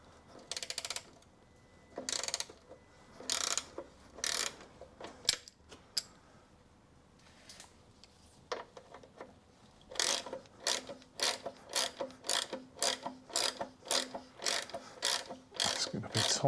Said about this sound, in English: I've got a 13mm socket here.